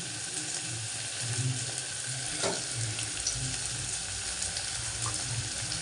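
Tomato pieces fry in a pan with a soft, steady sizzle and a brief splash or clatter near the middle, fairly quiet and uninterrupted by speech.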